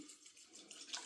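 Lanjaron mountain spring water pours steadily from a bottle over Honduran wildcrafted seamoss, a continuous bright splashing trickle at close range, alone and briefly.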